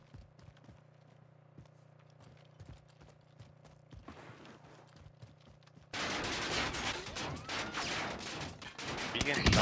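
Gunfire in the Warzone Caldera video game, sporadic distant shots and clicks at first, then a dense, loud burst of rapid fire and explosions filling the second half.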